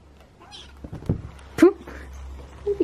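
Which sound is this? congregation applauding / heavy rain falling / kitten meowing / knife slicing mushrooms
kitten meowing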